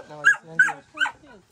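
A dog lets out three quick, high, yelping barks close by, each short and tonal, then falls quiet.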